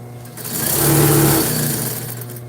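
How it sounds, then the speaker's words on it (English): A sewing machine stitches the sleeve of a cloth face mask in one loud, close, continuous whir that swells and then eases off, with no talking. "Getting that sleeve sewn right."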